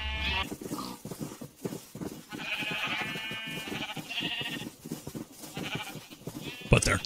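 Minecraft sheep on a Create mod shearing Ferris wheel bleat repeatedly in quick succession, several overlapping calls following one another over a busy game background.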